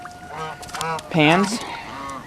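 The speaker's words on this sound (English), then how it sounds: "The geese are checking out the syrup" Geese honk near hot maple syrup evaporator pans during a Maine maple sugaring day, several loud, close, harmonic honks in quick succession, the strongest in the middle, with a brief spoken word among them.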